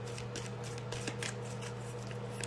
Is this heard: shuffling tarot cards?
yes